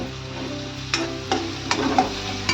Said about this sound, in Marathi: गरम मसाला पण घालूया. जरा ढवळून घेते.